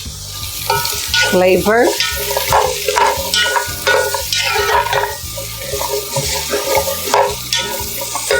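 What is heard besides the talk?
cardamom sizzling as it is added to the hot pan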